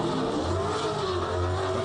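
A 6-litre eight-cylinder supercar engine revs hard at a hillclimb, a loud, sustained low roar with rising harmonics throughout, no speech over it.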